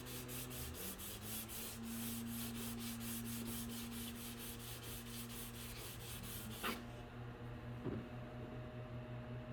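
A sanding block rubs steadily over a scratched plastic rear fender on a 2016 Jeep Cherokee, giving continuous close rasping strokes in a quick repeating rhythm that stops abruptly near the end.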